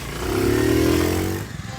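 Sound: motorcycle engine revving during riding training

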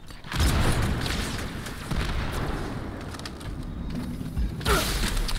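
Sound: grenade explosion in Halo 2 video game

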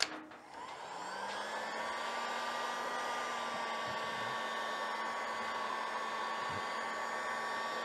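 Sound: heat gun blowing hot air

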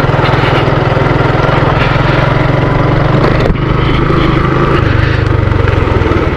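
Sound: motorcycle engine riding on a rural track

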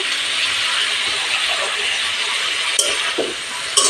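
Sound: frying sliced vegetables with salt and turmeric

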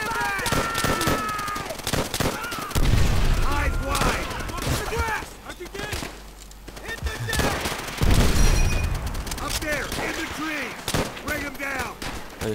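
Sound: explosion in Call of Duty: World at War video game

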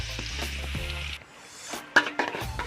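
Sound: stir-frying chili and coarsely blended garlic in oil in a wok

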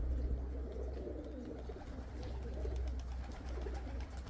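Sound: flock of white pigeons

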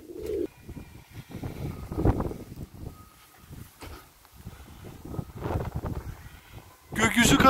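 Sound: pigeons cooing at Istanbul Edirnekapı pigeon market

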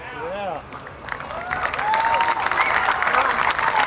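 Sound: crowd applauding at Independence Day celebration

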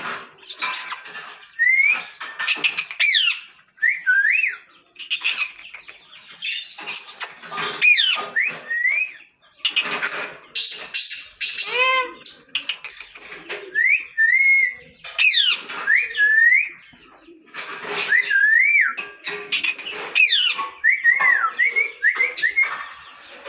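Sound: pet bird calling in response to whistling

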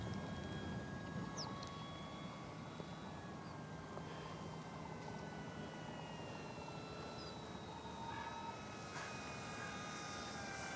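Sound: E-flite P-47D Razorback RC model airplane flying

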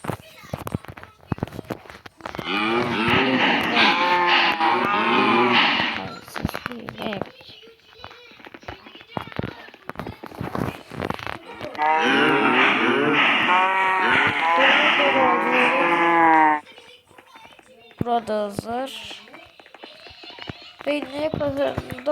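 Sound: cow mooing

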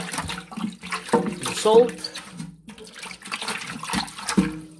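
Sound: water running while washing out a fish tank

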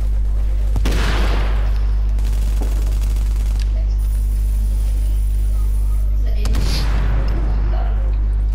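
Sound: gunfire from the video game Tom Clancy's The Division

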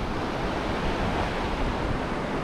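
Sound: river flowing through Gabral valley, Swat

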